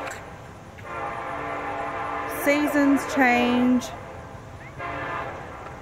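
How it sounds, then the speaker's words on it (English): A freight or passenger train horn sounds in two long, loud blasts at a distance, with rumbling rail noise beneath, while a person talks over it during an outdoor walk. "And here comes the freaking train."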